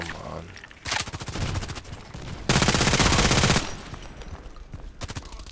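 Rapid automatic bursts from an H&K MP7 submachine gun in the shooter game Contract Wars, several sharp rattling volleys separated by short pauses, with a longer sustained burst in the middle, loud and close.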